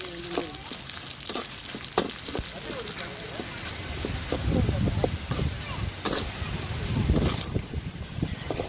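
Seeds crackling and popping in hot oil while being fried for puliogare, a dense sizzle with sharp irregular pops close by, steady throughout with spoon stirring.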